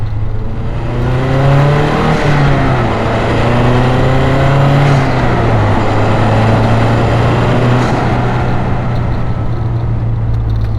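A stock 2012 Mazdaspeed 3 engine revs hard and climbs steadily under full throttle, loud and close, droning continuously for about ten seconds with no talking.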